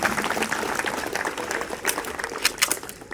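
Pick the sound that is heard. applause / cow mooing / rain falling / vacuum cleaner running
applause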